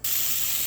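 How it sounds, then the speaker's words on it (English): Cut vegetables sizzling in an omelet pan without butter, a sudden steady hiss that starts sharply and holds loud and close. "Sizzle."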